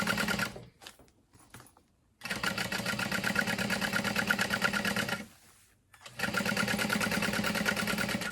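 Domestic sewing machine basting a zipper in place, running in two long bursts of rapid, even needle chatter with short stop-start stitches and pauses between, close and clear with no talking.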